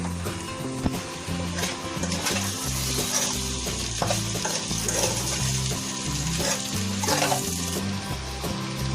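Cheesy baby potatoes frying in a pan as salt is stirred in: a constant close sizzle with repeated scraping and tossing of the potatoes, heard alone without talk.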